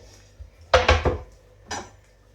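Knife sawing through a frozen cheese pizza, giving a few loud crunching, scraping cuts close by, then a pause and one shorter cut.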